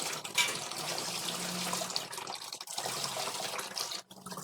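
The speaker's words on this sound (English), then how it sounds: "Add water to it, to this, and sieve it." Water poured into soy pulp for sieving in a home kitchen while making soy milk, a steady close splashing trickle running for several seconds before cutting off near the end.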